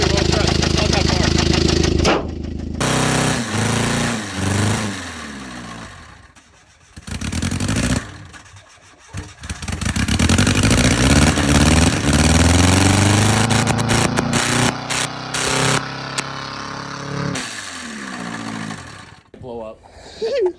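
A rough engine revs hard and chugs with a coarse, tractor-like clatter, rising and falling in bursts with brief drops, while people talk loudly over it nearby.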